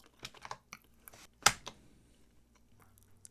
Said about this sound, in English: I'm going to copy this, type sudo,